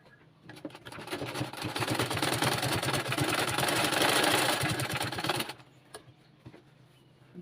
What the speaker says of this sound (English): You see how close I'm sewing to the neckline, so it doesn't show.